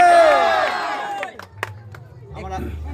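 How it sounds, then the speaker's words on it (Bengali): A crowd at a Durga Puja award ceremony honouring the best environment bursts into loud, overlapping cheering and shouting, which fades into scattered claps and a few sharper hand-claps nearby. "জোরে জোরে হাততালি"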